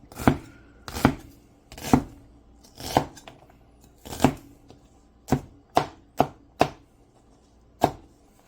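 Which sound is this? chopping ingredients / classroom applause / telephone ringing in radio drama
chopping ingredients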